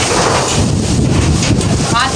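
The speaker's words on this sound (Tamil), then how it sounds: "காற்றடிக்க தலைக்கெல்லாம் காற்று" Strong wind blows outdoors, buffeting the microphone in a continuous low roar with gusty swells for a couple of seconds.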